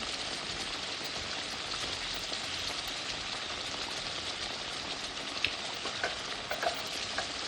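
Ghee sizzles steadily in a pan of doi katla fish curry as a continuous, even hiss. A few faint ticks and pops sound near the end, and no voices are heard.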